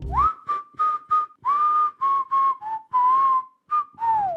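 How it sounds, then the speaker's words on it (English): A person whistles the theme to "In the Air Tonight" by Phil Collins, clear and close, in a series of distinct sustained notes with brief pauses between them. "you hear him whistle"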